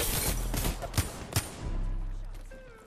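Two or three sharp gunshots ring out in Apex Legends amid a busy game mix, with a low rumble of action before and after them.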